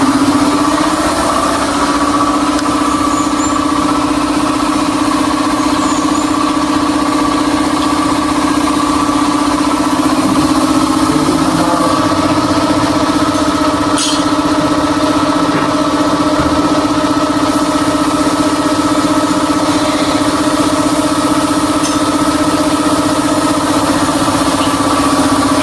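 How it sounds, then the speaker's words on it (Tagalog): An air compressor carried on a motorcycle runs steadily and loudly throughout, a constant droning hum with a strong tonal whine that holds unchanged from start to finish. "Yung compressor natin, kinarga natin sa motor."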